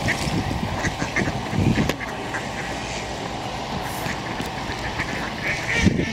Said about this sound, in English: Ang daming ducks, guys.